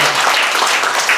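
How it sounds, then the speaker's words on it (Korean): Audience applause at a Korean anniversary ceremony and lecture event, a loud continuous wash of many hands clapping in a hall. "다시 한번 뜨거운 박수 부탁드리겠습니다"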